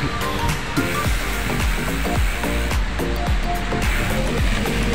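River water rushing steadily around a mountain biker riding along a riverbed at dusk near Sitio Macopoy, Puray, a continuous loud wash of noise with recurring low knocks from the ride.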